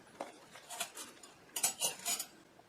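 Silver-plated flatware being handled, a pierced spoon among the pieces: a few light metallic clinks and taps, close and quiet, in short scattered bursts.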